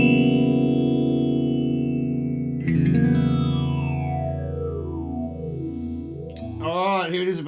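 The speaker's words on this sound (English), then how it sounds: "So here is the first phaser." Behringer Bi-Phase phaser with feedback and depth turned fully up, processing a sustained tone into a sweeping, resonant whoosh whose pitch glides down and back up, ending in a brief warbling flutter.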